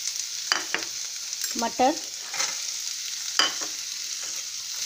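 Vermicelli fries in a little oil in a pan while a spoon stirs it, giving a soft steady sizzle with scraping strokes; one brief spoken word is heard.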